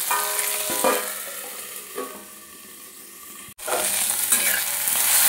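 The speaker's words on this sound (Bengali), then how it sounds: "ভেন্ডিটা ফ্রাই হয়ে গেছে।" Okra frying in a pan, a steady loud sizzle running throughout with occasional stirring scrapes and a brief dropout partway, close and without talk.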